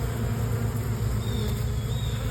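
Honeybees hum in a steady, dense buzz at a hive entrance, a continuous faint drone with no voices.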